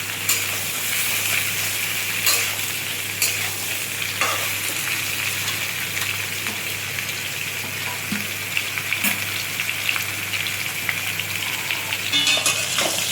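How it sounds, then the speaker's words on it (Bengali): Unripe jackfruit pieces fry in a pan of hot oil with a dense, continuous close-up sizzle, a rain-like hiss dotted with occasional pops and stirring scrapes throughout. "একটু ভালো করে একটু এঁচোড়টা ভাজা ভাজা হোক।"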